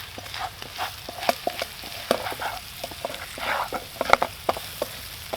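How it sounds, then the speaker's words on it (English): Flour being stirred into sausage fat in a pan over a Firebox Ultra camp stove outdoors, a soft steady sizzle punctuated by frequent scraping and clicking strokes of the utensil, close and moderately quiet, with no talking. "Mix that in with the fat and the sausage."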